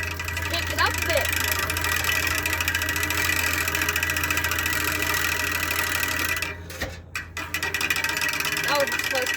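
A homemade engine runs steadily at idle with a dense mechanical clatter, then briefly cuts out and revs back up near the end, with someone talking over it.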